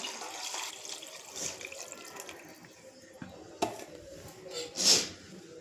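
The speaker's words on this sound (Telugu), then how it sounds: "ఇప్పుడు దీంట్లో చింతపండు జ్యూస్ వేసుకుందాం." Tamarind juice pours into a pot of pumpkin charu with a soft, running liquid wash, broken by a sharp clink and a louder splash near the end.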